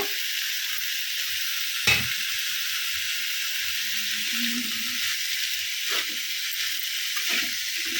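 Grated ginger hits hot oil in a pan of bitter gourd curry, a steady loud sizzle and hiss running throughout, with a couple of brief scraping stirs breaking through.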